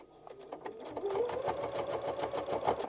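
A sewing machine stitches through a thick composition notebook cover flap, a quiet, rapid, even rattle of needle strokes that steadies and grows slightly louder as it runs.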